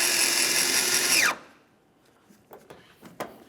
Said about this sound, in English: Now we can put in our mounting screw.